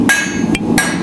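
Three loud, ringing hammer blows strike a steel bar being forged into a leaf head on an anvil, close and evenly spaced.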